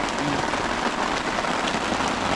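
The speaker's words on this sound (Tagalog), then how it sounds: "Umulan" Heavy rain pours down steadily and close, a dense unbroken hiss of drops striking surfaces during a sudden downpour, with no talking.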